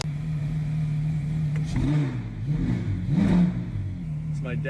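Idling Porsche Carrera GT engine giving a couple of short throttle blips, close by, with people talking over it.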